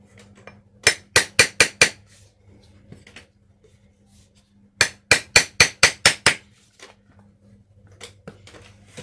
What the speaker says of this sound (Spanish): Lo vamos a hacer con esta destornillador, le saqué punta